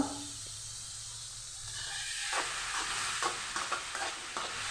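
Cooked green beans stirred in a hot pan for Kerala-style thoran, a steady sizzle that swells after a quiet start into scraping and clinking of a spoon on the pan, close and fairly loud.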